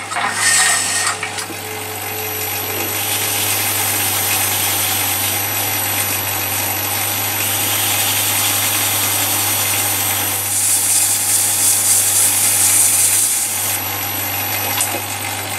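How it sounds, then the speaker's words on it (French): Power sander smoothing cherry wood for a bird feeder, a loud steady motor whine with gritty abrasive noise, close and continuous throughout. "Un petit coup de ponçage et puis c'est bon."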